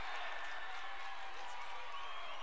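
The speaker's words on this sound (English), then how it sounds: "as Rawlins student section gets up and they're cheering again" Rawlins student section cheering through a state championship volleyball match against Lyman, a steady, dense roar of crowd noise that holds for the whole moment without a break.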